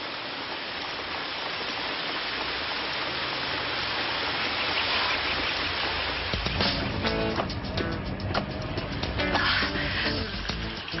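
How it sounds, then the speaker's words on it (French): Steady rain falls in a dense, even hiss that fills the whole stretch, with a busier patter of drops and clatter coming in toward the end; no voices. "Il y a même la pluie qui me poursuit alors qu'il y avait du soleil."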